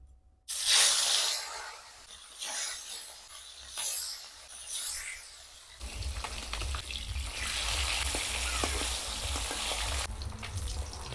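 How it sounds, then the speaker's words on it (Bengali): Mrigal fish fry in hot oil in a wok: an abrupt burst of sizzling that eases into uneven hissing pulses, then swells into a steady, louder crackling sizzle. "মাছগুলো একে একে করে সবগুলো ভাজা করে নেব"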